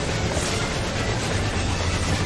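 During a Final Fantasy XIV boss fight against a train in Omega Sigmascape, a constant dense rumble of the rolling train fills the whole moment, with rhythmic low clatter and no voices.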